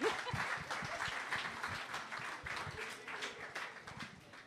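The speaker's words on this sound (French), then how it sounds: "mais applaudissez-le." An audience at a live talk event applauds in a dense burst of clapping that is loudest at the start and slowly thins, mixed with voices speaking over it.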